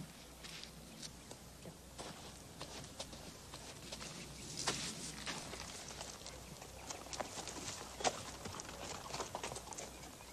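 Soft, irregular clip-clop of hooves on the ground, fairly quiet and steady for several seconds, with light outdoor background noise and occasional sharper knocks.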